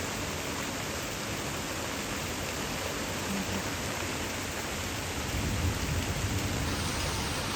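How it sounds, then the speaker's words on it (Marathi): Heavy cloudburst-like rain pours down over village farmland, a dense, unbroken roar of falling water that swells slightly toward the end, with possible low rumbles of thunder beneath and no talking. "बापरे काय जबर पाऊस सुरू झाला इकडे डगफुटी सारखा पाऊस येतो हा"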